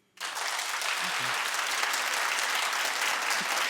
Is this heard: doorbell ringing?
no